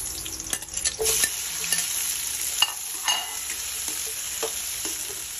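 Onion and tomato sauté in a hot pan, a steady close sizzle punctuated by scraping stirs and light utensil clicks, with no voices.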